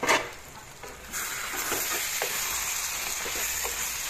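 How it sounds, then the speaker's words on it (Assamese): Chicken curry with potato and banana frying over a low flame, giving a steady close sizzle with faint stirring scrapes and no voices. "এনেকৈ ভাজিব কম জুইত ভাজিব"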